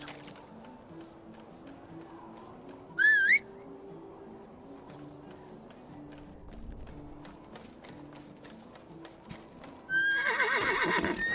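In the video game Medieval Dynasty, a horse gives a short loud whinny over soft background music with light hoof clops, then another neigh near the end.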